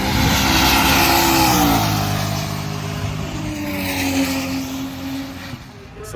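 A Nissan 300ZX with an LS turbo engine roars through a drag pass at a street racing event, a loud, sustained engine howl with rising then falling pitch as it passes and fades into the distance.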